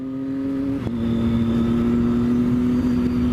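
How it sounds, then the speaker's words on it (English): A motorcycle engine hums steadily at close range while riding on the road, its tone dipping briefly then holding an even drone under wind noise. "So here we are out on the bike"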